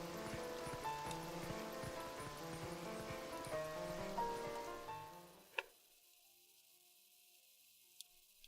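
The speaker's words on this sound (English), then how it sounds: "Rain. Perfectly fitting with the mood." Rain patters in Zelda: Twilight Princess as a steady soft hiss under busy game music, which cuts off abruptly, leaving faint rain with a couple of sharp ticks.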